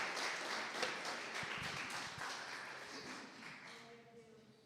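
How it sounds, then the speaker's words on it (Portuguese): A church congregation applauds after a sermon, a dense wash of clapping that slowly fades, with a voice speaking briefly near the end. "Vamos aplaudir o nome do Senhor?"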